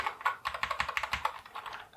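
Fast, steady keystrokes on a wireless 60% low-profile mechanical keyboard, each press a crisp, close click in a quick rattling run.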